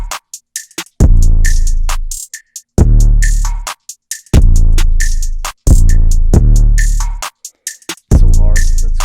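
A full trap drum loop pairs booming 808 bass notes, layered with a kick, with crisp hi-hat ticks and snappy claps in a steady repeating groove, loud and alone.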